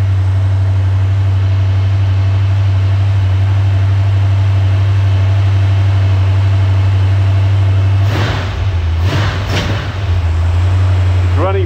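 A hydrogen-converted V8 engine idles steadily on gas during a high-RPM test, a loud continuous low hum and drone, with a few brief bursts of noise near the end.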